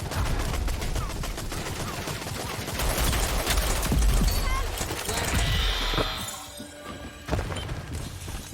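Pistol hip-fire gunshots in the shooter game Rogue Company come as rapid, sharp cracks in quick bursts amid a dense, loud battle mix of impacts and shattering. Close and continuous, with a brief lull near the end.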